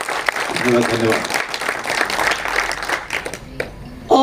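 Audience at a Patna event for Manoj Bajpayee's 100th film breaks into loud, dense crowd applause beneath a speaker's voice over a PA, fading late before a brief word of thanks.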